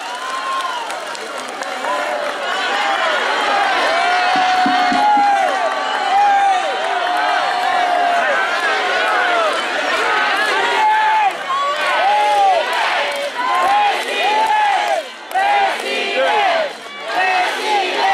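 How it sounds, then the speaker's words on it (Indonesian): A large crowd at a gathering in Bukittinggi applauds and cheers for Anies Baswedan, with dense clapping, shouts and chanting voices carrying on loud and continuous throughout. "aplaus yang meriah untuk Bapak Anies Baswedan"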